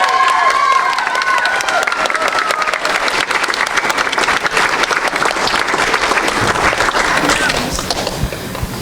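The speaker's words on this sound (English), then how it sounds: "Let's give them another round of applause." Theatre audience at a live pirate musical stage show claps and cheers loudly and steadily for several seconds, with scattered whoops and voices in the crowd, before tapering slightly at the end.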